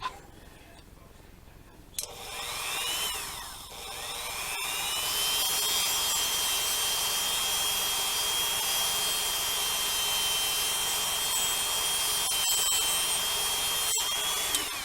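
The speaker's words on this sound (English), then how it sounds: "And I'm just using the disc cutter" A Dremel rotary tool fitted with a disc cutter whines up and holds a high, steady grinding pitch as it cuts through a plastic model kit part, with small dips and scrapes along the way, close and without talk.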